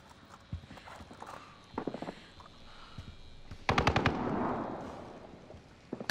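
Gunfire in the Call of Duty Warzone video game: scattered single shots, then a sharp rapid burst of automatic fire followed by a fading echoing tail, with another loud shot at the very end.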